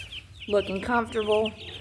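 Eight-day-old meat chickens cluck and chirp in a short, close burst of vocalising, clear against a quiet background.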